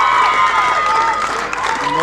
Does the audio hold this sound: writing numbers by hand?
no